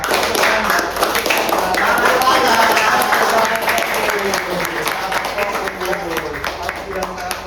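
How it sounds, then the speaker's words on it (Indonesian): A class of students claps in unison in single and double clap patterns, a dense, loud burst of hand claps with a voice calling the pattern over it. "tepuk ganda, tepuk tunggal, tepuk ganda, tepuk ganda"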